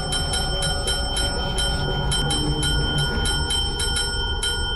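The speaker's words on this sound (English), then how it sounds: "Thought I was done hearing that damn bell." A small bell dings repeatedly in a quick, fairly regular rhythm over a constant loud hum, close and insistent.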